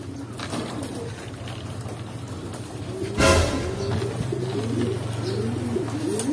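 Racing pigeons coo repeatedly in a low, rolling rhythm near a loft at a race arrival in Leyte, over a steady low engine-like hum, with a brief loud rushing burst partway through.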